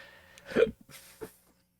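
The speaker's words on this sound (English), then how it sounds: "I do have some minor hiccups" Two hiccups, a sharp near one followed by a softer second a moment later, alone in a quiet room.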